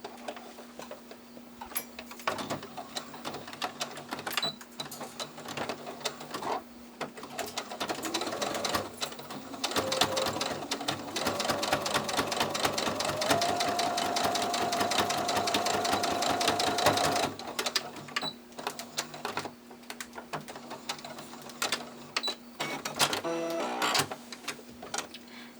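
Sewing machine stitching the seams of a beginner bat plush, bursts of rapid mechanical clatter that build into a long continuous run in the middle before easing back to short stop-start stitching.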